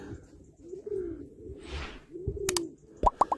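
Pigeons coo in soft, low, drawn-out calls close by, with a brief whoosh partway through and a few sharp clicks near the end.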